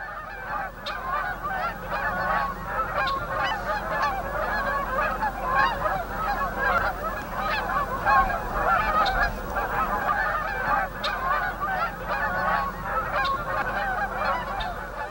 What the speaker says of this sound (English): There's nothing like the sight of waterfowl streaming across the sky, talking their way south to indicate that fall has truly arrived